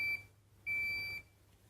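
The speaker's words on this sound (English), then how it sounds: "So it will beep when the first cycle's finished." Two high electronic beeps in a quiet room, a short one followed by a longer one.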